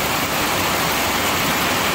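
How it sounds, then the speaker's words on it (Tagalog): Heavy rain pours down steadily on a farm, a loud, dense, unbroken hiss with no pauses and no voices. "Lakas ng ulan."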